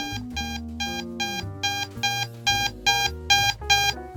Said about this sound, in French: Si vous entendez ces bips répétés, éteignez l'unité et remettez-le en marche.